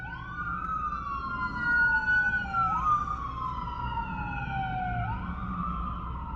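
A wailing police siren rises and falls in long, repeated sweeps, clear and fairly loud as it passes through a city neighborhood, with steady traffic rumble underneath and no talking.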